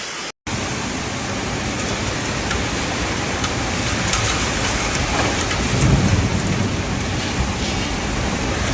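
Heavy rain pours down in a dense, steady hiss while thunder rumbles low beneath it, swelling toward the end, during a violent storm on the Romagna coast of Italy.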